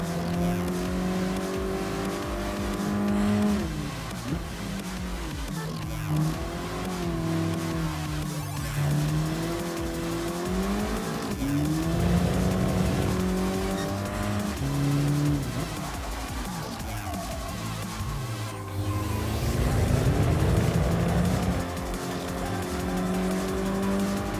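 A front-wheel-drive VW GTI driven hard on a road in Austin, Texas, engine labouring and revving as tires squeal and skid through several bends, loud and close almost throughout.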